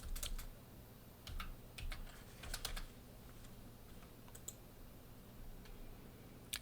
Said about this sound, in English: Let me type in this.